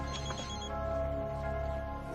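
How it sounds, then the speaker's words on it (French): A mobile phone rings steadily and fairly softly for about two seconds, its tone held without breaks over a low background hum. "Mon téléphone sonne."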